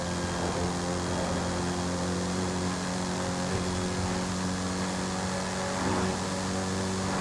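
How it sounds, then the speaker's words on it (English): A JDM V8 car engine in Forza Horizon 5 drones steadily at moderate volume, a sustained low-pitched hum with layered harmonics and no speech. "You can tell that it's a JDM V8"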